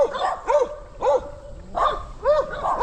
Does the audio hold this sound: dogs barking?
yes